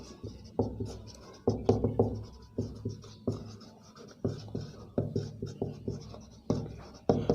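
Chalk or marker strokes on a board while a geometry problem about circles is written out, a steady run of short scratching and tapping strokes in quick rhythmic clusters, close and clear with no talking.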